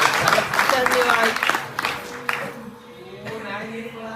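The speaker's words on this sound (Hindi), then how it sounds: "पुनः एक बार ताली भैया के लिए" Audience applauding during a Hindi talk on the seven wedding vows: dense clapping from a seated crowd that gradually thins and fades, with a voice heard alongside.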